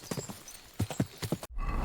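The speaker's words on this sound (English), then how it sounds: "We'll just get on the horse, follow the road," Horse hooves in the video game Kingdom Come: Deliverance II clop along a road in a quick, uneven rhythm of close, soft thuds in two short runs, followed by a sudden shift to a rumbling outdoor noise.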